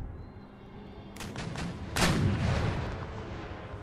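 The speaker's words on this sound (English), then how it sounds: "Attack their mortars with my howitzers." Howitzers fire on enemy mortars in an Empire: Total War battle, with two sharp booming cannon blasts about a second apart over a low battlefield rumble.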